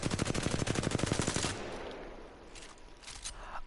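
Rapid automatic weapon fire with recoil in Apex Legends at a firing range: a fast burst of evenly spaced shots for about a second and a half, then fading echoes and faint clatter.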